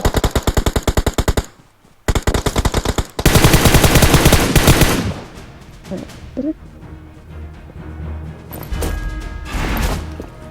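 Rapid automatic gunfire from the video game PUBG Mobile rattles out in several loud bursts, followed by quieter in-game background noise and faint distant shots.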